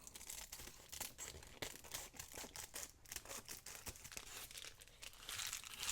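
A paper journal cover is folded and handled close up, giving soft crinkling and creasing with scattered crisp rustles and taps, quiet and without speech.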